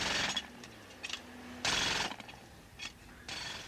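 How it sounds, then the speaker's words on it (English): Jackhammers break up pavement on a city road being torn out for repaving, sounding in loud, rough bursts of hammering separated by quieter gaps of site machinery. "Crews pulled out jackhammers today to tear up and repave Williams and Corona"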